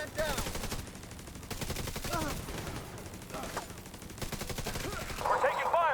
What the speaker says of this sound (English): We're taking fire on the western perimeter.